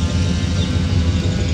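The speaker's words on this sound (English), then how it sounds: "Sorry about the noise, neighbor's mowing." A neighbor's lawn mower runs continuously as a loud, steady low-pitched engine drone with no pauses and no talk over it.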